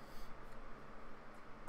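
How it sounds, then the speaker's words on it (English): A person who choked on water gives a single short cough, sudden and close, right at the end after a quiet stretch. "Made myself cough."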